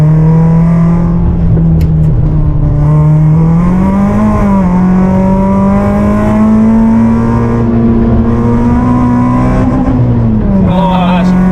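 A Peugeot 106 Rallye or Citroën Saxo VTS engine revs hard in second gear and holds high, droning against the rev limiter, its pitch wavering, loud and close.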